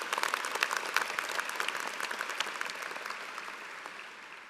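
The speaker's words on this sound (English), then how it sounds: "I think they need another round of applause." A crowd at a 2016 Rutgers School of Business graduation ceremony gives a round of applause, with dense clapping that is fairly distant and fades gradually toward the end.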